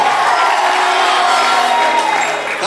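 Wedding reception guests ululating loudly in vigelegele, a dense high-pitched crowd trill of cheering voices sustained throughout, close and loud.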